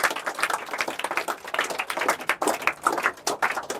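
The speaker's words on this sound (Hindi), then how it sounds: "जोरदार ताली होना चाहिए इसके लिए।" Students in a classroom clap hard for a classmate, giving steady, dense applause that runs throughout with no talking.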